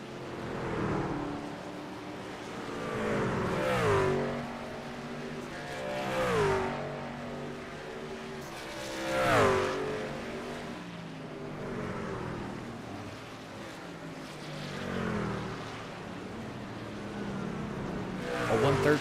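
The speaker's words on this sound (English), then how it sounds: "Engine's loud, ain't it?" Race truck engines roar past repeatedly during a truck series race, each rising and falling in pitch as they pass, with faint speech underneath.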